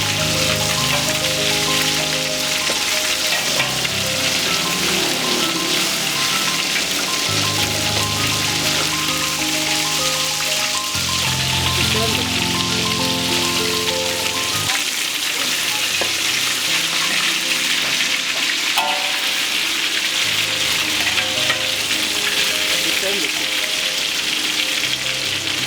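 Stuffed chili fish fries in a pan over a low flame, a continuous dense sizzle and crackle that stays steady throughout, with tonal background music underneath.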